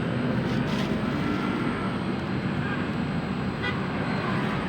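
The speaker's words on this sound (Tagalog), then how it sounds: "Good running na po yung pan motor niya." Outdoor unit of an air conditioner with a leaking copper pipe, its fan motor running in a steady, loud, continuous whir with a broad rushing hum and no breaks.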